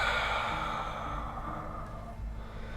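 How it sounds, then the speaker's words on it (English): A deliberate, long exhale through the mouth during a breathing exercise: one steady, close breath that runs for almost three seconds and slowly fades, with no talk over it. "Exhale through your mouth."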